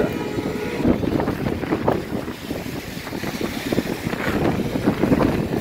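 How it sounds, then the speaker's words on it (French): Strong gusts in a New York storm buffet the microphone, a rough, uneven roar that swells and dips throughout with no talking. "Pardon pour le vent, le bruit du vent."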